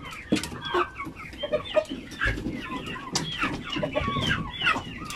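A flock of hungry chickens clucking busily and continuously, several birds close by with overlapping calls and scattered sharper squawks.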